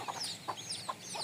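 Local deshi hens on a small village farm of ten birds give a few short, soft clucks, spaced apart and quiet against a faint background hiss.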